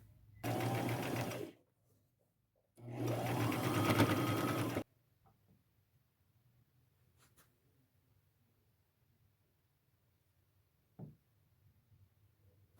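A sewing machine stitches a ruffle onto a thrifted dress in two close, rapid bursts of running stitches, the second longer, followed by quiet handling sounds and a soft knock.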